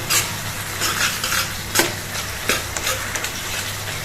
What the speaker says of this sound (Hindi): अदरक डालना है, ग्रेट किया हुआ, इसको भी डाल लेते हैं और इसको थोड़ा सा भूनेंगे।